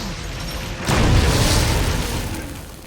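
A grenade blast from Resident Evil HD Remaster lands as one loud, broad boom that swells suddenly and then trails off in a long rumbling decay.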